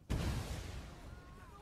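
Artillery explosion in the video game Total War: Napoleon, a sudden loud boom bursting in at once and rolling off into a long, fading rumble.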